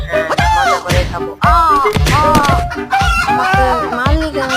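Chicken clucking and squawking loudly up close in a rapid run of harsh, rising calls, with crowing-like cries mixed in.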